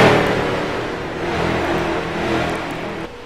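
Race cars roar past on an oval track mid-race, a sustained loud engine drone with slight swells as the pack goes by, then a faint drop at the end.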